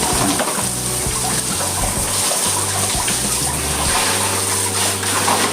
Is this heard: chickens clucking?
no